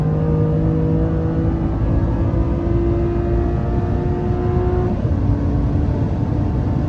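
A car at full throttle on a race circuit during a first driving lesson gives a loud, close, steady engine drone with strong harmonics and a slight shift in pitch partway through. No voices are heard.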